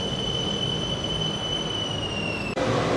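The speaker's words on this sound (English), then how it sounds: "And here comes my train now." A train pulls into a Bangkok station with a steady, loud rumble and a sustained high metallic wheel squeal, ending in an abrupt shift to a quieter hum as it slows.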